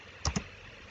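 Two quick clacks of typing on a computer keyboard, close and fairly soft, in an otherwise quiet room with no talking.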